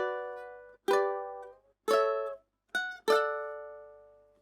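Ukulele strumming the first-section chords of a piece from How To Train Your Dragon, four separate ringing chords with short silences between them, the last one left to decay.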